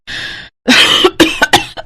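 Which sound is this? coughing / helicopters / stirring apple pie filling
coughing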